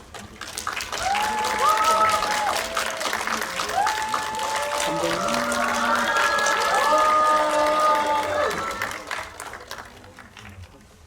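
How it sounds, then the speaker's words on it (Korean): A film-screening audience at a special Q&A event applauds to welcome three guests, with loud sustained clapping and some cheering. Voices sound over the crowd at times. "오늘의 세 분 큰 박수로 맞이해주세요"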